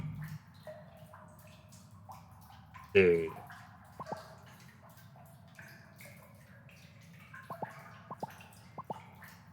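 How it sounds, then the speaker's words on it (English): Sewer water drips in a video game, sparse sharp plinks scattered over a low ambient hum, with one louder splash early on and a cluster of small drips near the end; a voice speaks briefly. "I was listening to the sewers water drip"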